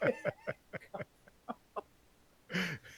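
A turkey clucks in a run of short, evenly spaced calls, close and fairly clear, ending in a louder, longer squawk.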